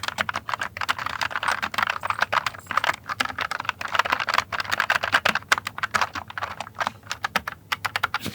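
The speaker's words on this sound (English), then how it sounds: "obviously I want to try typing on it" Rapid clacky keystrokes on a Logitech MX Mechanical keyboard with tactile quiet switches, close and continuous, with an uneven typing rhythm and occasional louder key hits.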